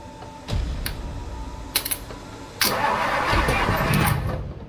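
A 1963 Mercury car engine, sitting unstarted for about a decade and suspected of a bad solenoid, cranks and tries to start: a short crank, a couple of brief clicks, then a longer steady cranking run that does not catch.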